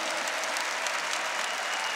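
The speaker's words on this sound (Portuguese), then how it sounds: "Aplauda o seu irmão aí do seu lado" A large crowd at an outdoor Catholic prayer gathering claps in a thick, even wash of applause that stays loud and continuous for a couple of seconds.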